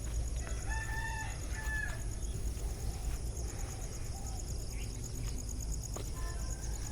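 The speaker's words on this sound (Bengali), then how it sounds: "পাখির কিচিমিচি আসলেই চমৎকার।" Birds chirp in short, scattered bursts over a steady background of crowing fowl and a constant insect drone, outdoors beside a railway line on a morning walk, with no voices.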